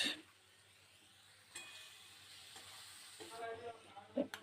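Chopped onion hitting hot oil already frying potatoes and torn bay leaves, a soft sizzle and brief stirring scrapes, fairly quiet, with a pause before louder frying toward the end.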